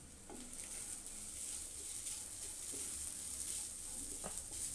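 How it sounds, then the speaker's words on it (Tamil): Grated coconut roasting in melted ghee in a pan, giving a steady soft sizzle with occasional light stirring scrapes, fairly faint and continuous throughout with no talking. "இப்போ தேங்காவை வந்து இது கூட சேர்த்துக்கலாம் சேர்த்து நல்லா ஃப்ரை ரோஸ்ட்டாக பண்ணிக்கலாம்"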